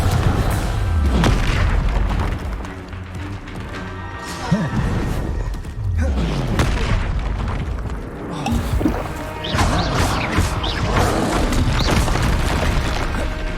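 Blasts from the Confringo fire spell in Hogwarts Legacy boom through a busy combat soundscape, with several loud impacts and crashes amid game music and effects.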